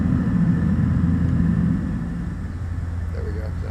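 Steady low droning engine rumble of a Beechcraft propeller plane in flight in the X-Plane flight simulator game, loud at first and dropping slightly in level partway through, with no speech over it.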